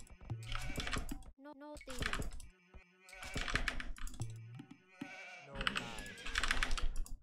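Sheep in the video game Age of Empires II bleat several times in short harmonic calls, mixed with game sound effects and rapid keyboard and mouse clicking.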